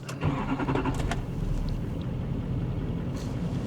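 Starter cranks and a 2017 GM L5P diesel pickup truck engine catches, with a clatter of clicks at first, then settling into a steady deep idle close by, heard after repairs for fuel injection problems.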